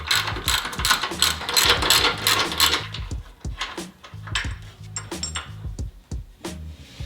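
A hand ratchet clicks rapidly in bursts as two 14mm bolts are loosened from a bracket during a Toyota Tacoma shock install, with metallic clatter and short pauses between runs. The sound is close and distinct, with no talking.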